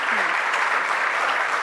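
Steady, dense clapping from a seated audience at an academic panel on Caribbean social sciences and human rights, an even roar of many hands throughout the short stretch.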